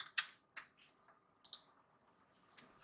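Keyboard of a Mac Mini 2018 setup being typed on, a few sparse, quiet clicks spaced irregularly against a near-silent room.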